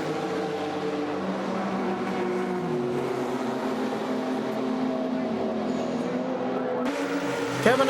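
A vintage race car at the Sebring endurance race pulls away from the pits at night, its engine droning steadily with a rising pitch as it accelerates, loud and continuous.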